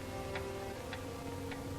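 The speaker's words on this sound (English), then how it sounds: "The ticking of the clock" A clock ticks steadily, three evenly spaced crisp ticks heard alone over a low hum in a quiet room.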